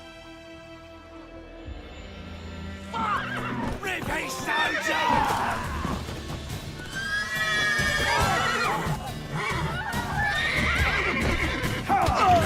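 Horses neigh and whinny repeatedly over clopping hooves, with someone shouting briefly amid the commotion in a busy scene from The Witcher 3.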